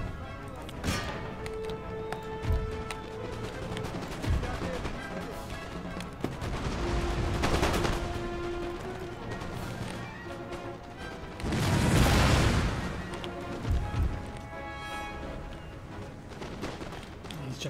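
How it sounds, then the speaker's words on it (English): Musket gunfire in an Empire Total War battle as grenadiers are shot at from several positions, with scattered shots and bursts of volleys at varying distances, one heavy rumbling burst midway, and speech heard in places. "Grenadiers being shot at from multiple positions."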